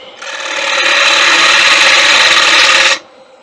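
A wood lathe push cut on a tiger wood platter makes a continuous rasping scrape for about three seconds, starting and stopping abruptly, close and loud.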